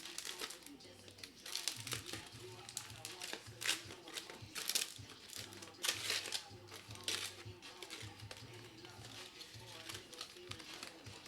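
Tin foil crinkles and crackles around baked sweet potatoes in a home kitchen, a steady run of papery rustling bursts at close range, with a voice talking over it.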